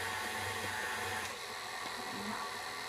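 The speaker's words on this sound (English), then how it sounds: "Put the mixer on low every time you're adding the flour" An electric stand mixer on low speed kneads cheese bread dough, giving a steady, continuous whir with a low motor hum throughout, fairly close and without speech.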